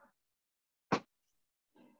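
A single sharp, loud sneeze bursts out alone in a quiet room during a watercolour painting session, with brief faint talk before and after it.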